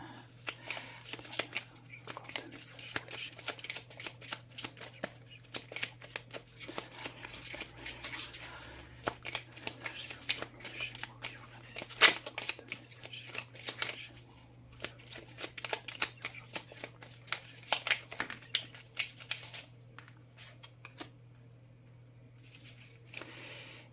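Tarot cards are shuffled and drawn in a long series of soft, rapid riffling and slapping bursts over a faint steady hum, with a voice speaking quietly now and then.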